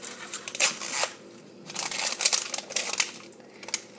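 Zipper being opened on toy doll packaging, a series of rough rasping and crinkling scrapes in uneven bursts, close and moderately loud, with no talking.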